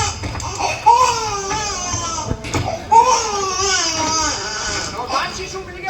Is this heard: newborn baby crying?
yes